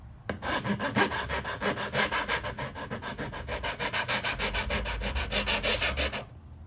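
An aluminium MacBook Pro palmrest is worked by hand with abrasive strokes, a fast steady rhythm of rasping rubs lasting several seconds, close and loud, with no talking.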